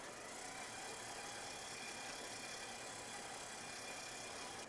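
Electric mixer running at higher power through red velvet cake batter, a steady, even whir with a continuous motor hum that holds at constant loudness throughout, alone with no talking.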